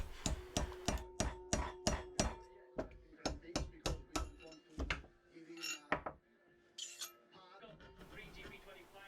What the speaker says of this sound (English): Try to chisel between the dust seal and the bearing race.